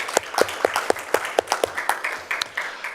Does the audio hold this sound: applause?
yes